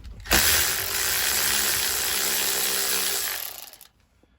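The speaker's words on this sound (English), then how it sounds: "you can get out there with one of these deep 10 millimeters right there, and you remove all four of those" Deep 10 mm socket removing nuts on a 1995 Ford F150 during a cruise control install, heard as one steady, loud whirring burst of about three seconds that starts abruptly and tapers off, with no talking.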